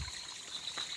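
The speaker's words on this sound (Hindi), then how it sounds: "ये पानी देखो ऊपर से बहते हुए आ रहा है और बहुत साफ़ पानी है" Clear water trickling gently down a small stream below a village home, a soft steady hiss of flowing water heard close and alone, with no voices.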